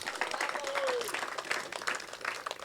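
Audience applause at a speech celebrating the 250th anniversary of the Declaration of Independence, a steady patter of clapping throughout, moderately loud, with a brief voice tone rising through the middle.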